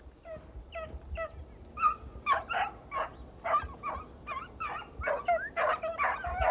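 Hunting dogs chase a rabbit through the brush, a pack giving repeated yipping barks and bays in an irregular, overlapping chorus, moderately close and continuous with no talk.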